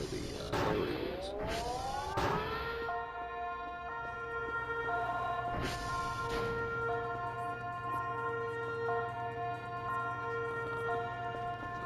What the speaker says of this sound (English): The sirens are going off.